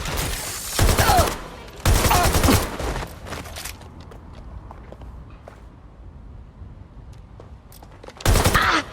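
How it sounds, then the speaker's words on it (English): Loud bursts of automatic gunfire in the video game Watch Dogs Legion: two volleys close together, a stretch of quieter scuffing and footsteps, then another sharp burst at the end. "They're shooting."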